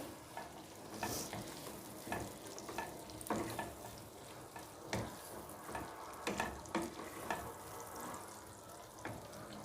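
Onions are browned in a frying pan for a chicken korma, with a soft, steady sizzle and repeated light scrapes and taps of a stirring spoon at an even rhythm.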